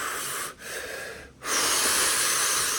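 Deep, wheezy breaths during a breathing exercise, heard alone and close: a long hissing exhale, a brief pause, another breath, a second gap, then a strong sustained rush of air.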